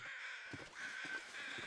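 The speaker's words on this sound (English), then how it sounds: "There's a crow there." A crow caws repeatedly in the survival video game The Long Dark, harsh calls coming several times in quick succession over steady wind-like ambient noise, moderately distant.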